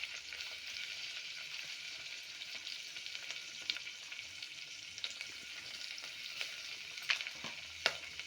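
Oil and ingredients sizzle steadily in a pan before washed toor dal goes in, a close, even crackle dotted with occasional clinks of stirring.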